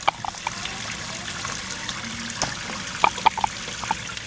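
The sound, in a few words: running water for washing oxtails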